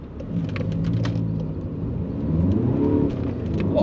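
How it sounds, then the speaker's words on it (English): VW car in sport mode with its DPF system removed, accelerating hard with wheel spin, a rising engine rumble and whir heard close from inside for a few seconds. "A lot of wheel spin."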